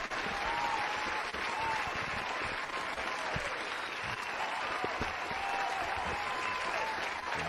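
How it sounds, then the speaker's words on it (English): Steady, dense applause fills the whole stretch at a moderate, slightly distant level, with a faint murmur of voices underneath and no clear breaks. "Give it a round of applause, man."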